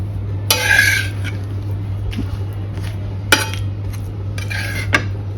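A utensil clatters and scrapes in a pot as grated coconut and salt are mixed into cooking kolbi, with a few sharp metal clinks over a constant low electrical hum.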